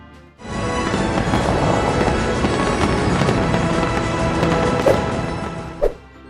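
A loud, continuous roar of New Year's Eve fireworks in Dubai with dense crackling and booming, a couple of sharper bangs standing out near the end.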